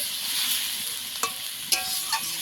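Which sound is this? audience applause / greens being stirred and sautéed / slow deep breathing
greens being stirred and sautéed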